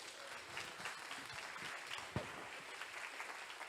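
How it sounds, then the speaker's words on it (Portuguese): A church congregation claps after the preacher calls for praise, a quiet and distant patter of applause, low and steady, with one brief louder knock partway through. "Aplaude Ele por isso."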